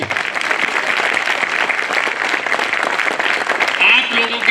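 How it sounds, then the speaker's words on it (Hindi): A crowd at a Bar Council of Delhi enrolment meeting breaks into loud, sustained clapping that fills the room from start to finish. "जोरदार ताली मारो बिना पूछे"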